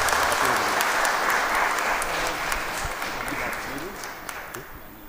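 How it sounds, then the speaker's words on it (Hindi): Wedding guests at a Christian church marriage ceremony applaud together, a dense burst of clapping that fades slightly toward the end, with some voices mixed in. "जोर से एक बार ताली बजा देंगे इनके लिए।"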